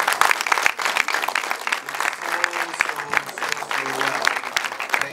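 Applause from an audience at a film premiere for the movie Omugwo, a dense wash of clapping filling the room for several seconds, with a voice faintly heard underneath.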